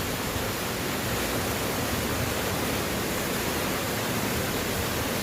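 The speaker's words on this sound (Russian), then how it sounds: "зимний водопад, Ореховский водопад" Orekhovsky waterfall near Sochi in winter at full flow, a steady dense roar of falling water filling the whole range, loud and unbroken with no pauses.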